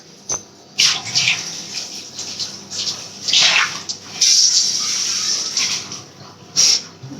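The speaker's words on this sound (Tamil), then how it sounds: "இதில் இருந்ததெல்லாம் தண்ணி ஊற்றலாம்." Water splashes and pours in uneven bursts into a cooking pot nearby, with gurgling surges and brief pauses between pours.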